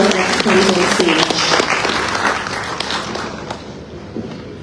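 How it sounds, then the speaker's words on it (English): An audience at an African Road Maintenance Fund Association conference applauds as a speaker takes the stage, dense crowd clapping loud at first then gradually thinning and fading. "A round of applause as he comes on stage."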